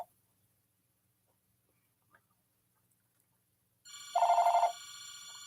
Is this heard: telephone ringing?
yes